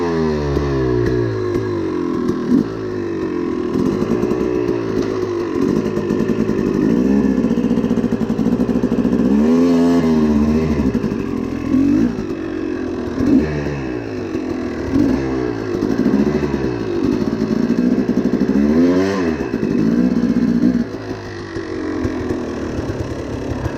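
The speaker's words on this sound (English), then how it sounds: "Doing figure eights on a 50 horsepower two-stroke race bike in the confines of a small backyard" A 50 horsepower two-stroke race bike rides figure eights in a small backyard, engine loud and close, rising and falling in repeated revving swells as it loops around, with no talking.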